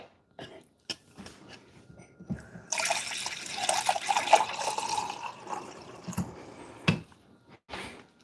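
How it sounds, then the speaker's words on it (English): Water is poured from a cup into a Ninja blender jar holding kale for a smoothie, a close splashing trickle lasting a few seconds amid soft kitchen handling sounds. "We'll add a little water to that."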